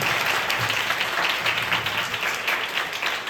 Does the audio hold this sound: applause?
yes